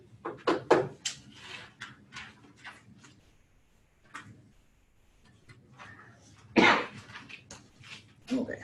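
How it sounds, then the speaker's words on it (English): A man with a cold coughs in a classroom setting: a cluster of harsh coughs and throat clearing at the start, a few scattered bursts, then another loud coughing fit late on. "sorry for my coughing today"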